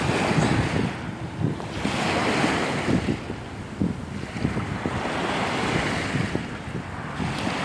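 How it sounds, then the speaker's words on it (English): Water rushing and washing loose debris along at close range, a steady broadband wash with rolling surges and wind buffeting the microphone throughout. "seeing as the water is still going, it just washed all this stuff away"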